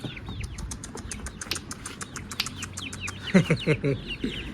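Young chickens in a coop following their keeper, many high thin chirps and peeps overlapping in quick bursts, close and busy, with a louder cluster of calls near the end.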